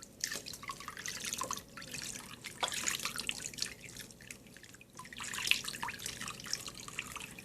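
Running water rinses shampoo out of hair, an irregular splashing and dripping stream that swells and fades in several surges, close and fairly soft, with no one talking.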